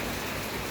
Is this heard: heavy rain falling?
yes